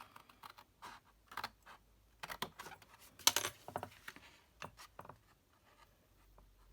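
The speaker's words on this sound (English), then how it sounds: "I'm just going to use my long scissors and we're just going to do a straight cut" Long scissors make a straight cut through scored cardstock for a mini album, a series of short crisp snips and paper rustles in a quiet room with gaps between them.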